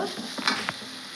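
Cooked dal going into tomatoes in a hot pan: a soft sizzle with a couple of wet plops and a quick stir, short and close.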